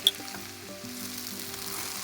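Cooked vegetables are mashed in a pan over low heat for vegetable cutlets, a soft continuous sizzle with faint pressing and scraping from the masher, plus a brief tick at the start.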